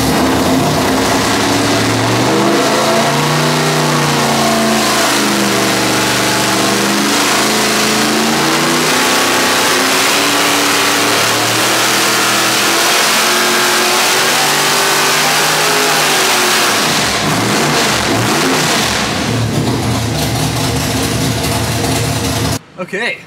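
A 406 cubic inch small-block Chevy with a dual four-barrel tunnel ram runs a full-throttle dyno pull, roaring loud and sustained as the revs climb steadily, then cutting off abruptly at the end.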